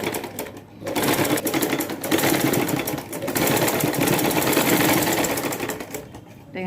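Sewing machine stitching the neck fabric of a baby frock, a loud close continuous mechanical whir with rapid needle clatter, briefly easing off near the start and around the middle before running on steadily.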